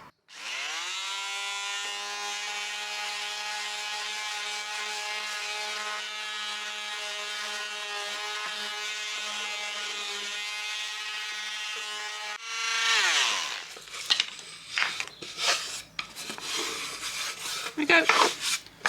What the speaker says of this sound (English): I'll just sand off some of the little gritty edges